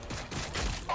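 Gunfire in the video game Battlesector comes as a quick burst of muffled, rumbling shots in under a second.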